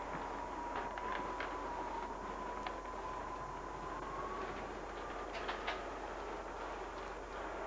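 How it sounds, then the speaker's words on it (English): A G-scale model train hums quietly along its track with faint clicking and a thin steady whine, soft and continuous. "As the train comes up the line, a little diesel comes in behind him"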